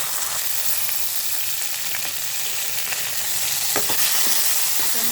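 Mustard seeds, cumin, fenugreek, urad dal and chana dal sizzle in hot tempering oil for a beans and capsicum curry, a steady close hiss scattered with sharp pops and crackles.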